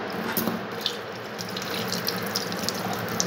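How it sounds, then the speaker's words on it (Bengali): Water pours and splashes steadily while a small Gopal deity idol is bathed indoors. The flow is continuous and fairly quiet, with no voices. "গোপাল ছোনাকে স্নান করানো হচ্ছে"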